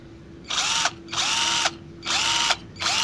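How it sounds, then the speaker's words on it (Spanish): Cordless power drill, a newly unboxed budget model, run in four bursts of about half a second each, each spin whining up to speed and then winding down, close and loud with no talk. "Vamos a agarrar la batería, el taladro, y ingresamos el taladro."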